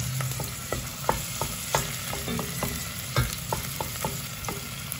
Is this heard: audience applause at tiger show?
no